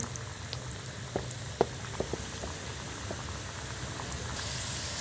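Egg and wheat flour moon pitha frying in oil, a soft bubbling crackle with scattered pops, fairly quiet and steady throughout, with no voices.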